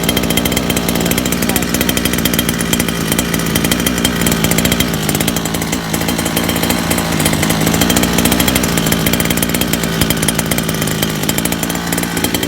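A KTM 990 motorcycle engine with a carburetor runs rich at idle indoors, producing a loud, continuous rough drone that stays close and unbroken throughout.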